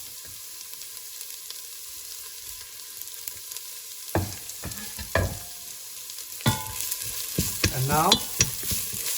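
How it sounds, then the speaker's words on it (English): Onion, celery and pepper browning with bacon in a pot for lasagna bolognese, heard as a soft sizzle that turns into bursts of clattering stirring and louder frying, with a brief voice. "brown the vegetables for like 5 minutes or so"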